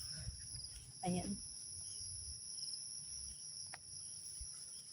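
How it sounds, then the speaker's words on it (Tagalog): Many insects chirp together on a mountainside, a steady layered drone of crickets running through the whole stretch, with a brief burst of talk early on and faint rustling underneath. "Grabe, ang daming mga insekto."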